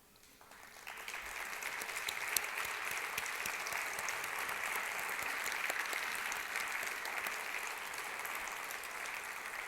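Audience applause starts up after a brief quiet moment, then settles into steady, moderately distant clapping from a room full of people that carries on to the end.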